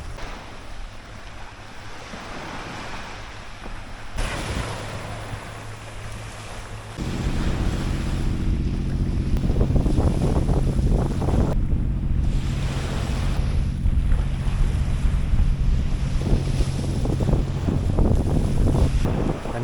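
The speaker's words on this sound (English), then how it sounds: "Here is the beach. Here is the ocean." Ocean waves breaking on a beach, a steady loud roar of surf with wind buffeting the microphone, swelling stronger about a third of the way through and continuing without any talk.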